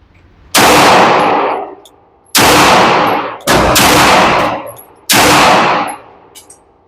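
Four loud, close pistol shots from a Kimber 2K11 Eclipse at a shooting range, each sharp crack followed by a ringing decay, unevenly spaced.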